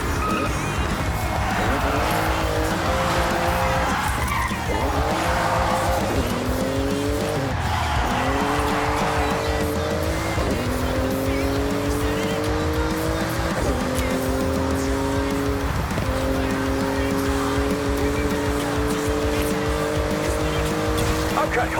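A Porsche racing flat out through a speed zone in Forza Horizon 6, its engine revving loud and continuous through repeated upshifts, with tire squeal and a voice talking over it.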